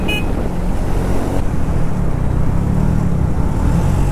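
A Triumph Speed 400 motorcycle is ridden on an open road from Guwahati toward Meghalaya, its engine hum buried under loud, constant wind rush and road roar, close and unbroken throughout.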